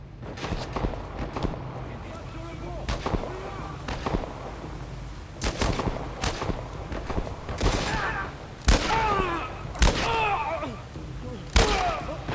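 Gunfire in The Last of Us Part 1, a series of sharp loud gunshot bangs at irregular intervals over ongoing game ambience, with a person talking between shots.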